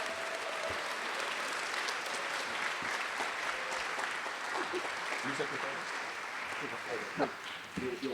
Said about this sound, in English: another round of applause to our 2023 National Merit Scholars